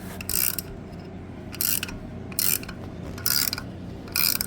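A ratchet tightens a screw on a 5.3 LS engine going into a 1993 Camaro, with five separate bursts of rapid clicking at a steady rhythm over a low background hum, close and fairly clear.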